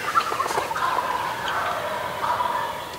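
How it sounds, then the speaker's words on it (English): Several wild turkeys gobble in rapid, rattling bursts in Illinois on an opening day of turkey hunting, overlapping at moderate distance with a bit of outdoor ambience. "We got turkeys all over, boys."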